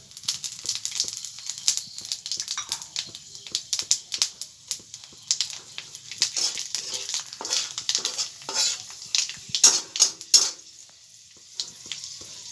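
Panch phoron spices go into hot fish oil and crackle sharply, with loud bursts of popping and spatter plus some stirring clatter. The bursts come irregularly over several seconds and fade toward the end.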